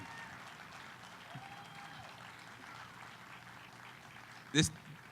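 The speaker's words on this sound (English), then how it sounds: "Guys, with the applause here, you got to bring it big time." Audience applause at a startup innovation festival keynote, a steady, fairly quiet wash of clapping spread through the room, ending with a brief louder knock or thump near the close.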